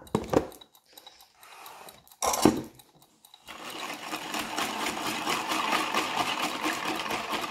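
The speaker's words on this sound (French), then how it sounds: "Donc on va déjà fouetter ça." An electric mixer whips a filling for a gluten-free lemon meringue tart, starting after a few brief knocks and then running as a steady, continuous buzzing whir close by.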